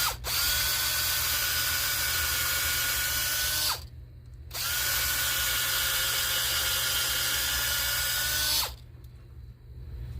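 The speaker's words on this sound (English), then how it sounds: "Drill all the way through" A power drill bores all the way through a piece of wood for a stow-away nutcracker bench, whining steadily in two long bursts with a short pause between them, close and loud with no talking.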